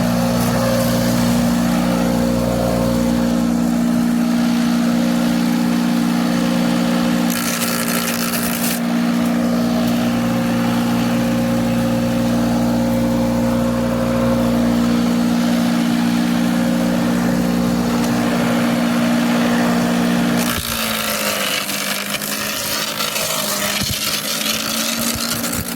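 A Patriot electric chipper shredder runs continuously with a loud steady motor hum and whirring blades, the tone shifting partway through as material is fed in, close and without voices.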